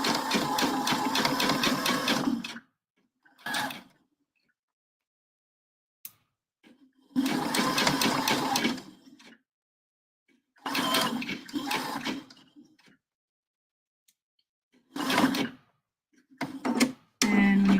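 Close sewing machine stitching fabric coasters, running in several short bursts of a second or two each with silent pauses between, as it sews forward and backstitches at the start and end of a seam.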